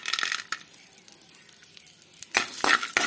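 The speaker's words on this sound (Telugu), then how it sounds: "ఇప్పుడు అదే నెయ్యిలో జీడిపప్పు వేయిస్తున్నానండి" Cashews frying in ghee for sweet jaggery rice pudding, a soft steady sizzle with light stirring, then a few sharper clinks of a spoon against the pan near the end, close and quiet with no talking.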